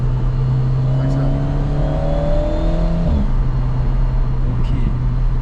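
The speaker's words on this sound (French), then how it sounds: "Descends un rapport là. Accélère." Alpine A110 GT car accelerating after a downshift, steady engine drone with rising harmonic tones through the middle, heard from inside the cabin at constant loudness.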